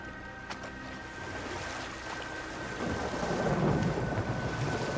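Thunderstorm in the God of War game: low rumbling thunder and a wash of rain and wind swell gradually, faint at first and building to a heavier roll.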